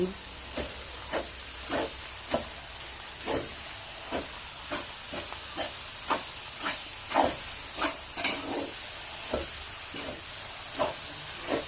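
Five kilos of minced pork stir-fried in a large pan for a Thai chilli paste, a steady hiss of sizzling fat broken by regular scraping strokes of a spatula, close and fairly loud with no talking.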